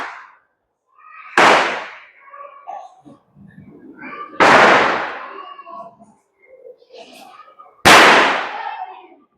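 Three loud, sharp Diwali firecracker bangs go off several seconds apart, each ringing out briefly, with voices talking in the gaps between them.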